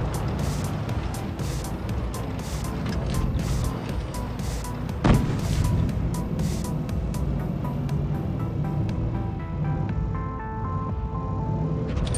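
A T-34-85 Rudy tank fires in a tank battle video game, with one sharp, loud shot midway through over a steady, droning engine rumble and layered background tones.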